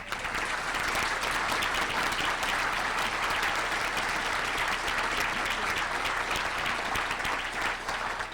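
Sustained applause from a large audience at a regional civic address honoring Mike Burton, a thick, even roar of many hands clapping that holds steady and loud throughout.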